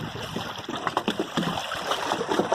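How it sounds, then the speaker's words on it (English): Water flows and laps along a shoreline, with a close, continuous trickling and light splashing at a moderate, uneven level and no talking. "So, there's the water here."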